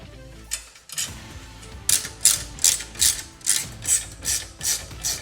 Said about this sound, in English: So I'm going to collapse the shelf.